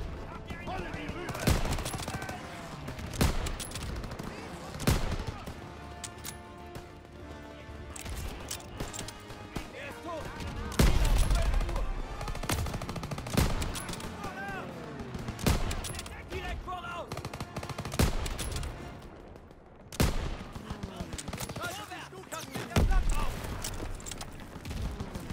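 Bursts of anti-aircraft and machine-gun fire aimed at diving Stuka bombers in the World War II shooter Call of Duty WW2, loud and repeated, with explosions and crashes mixed among them and someone talking over the battle.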